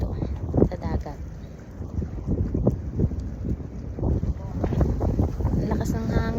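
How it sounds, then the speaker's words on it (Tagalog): Strong wind at the sea buffets the microphone in gusty, rumbling bursts that rise and fall throughout, with a person talking over it. "Ang lakas ng hangin."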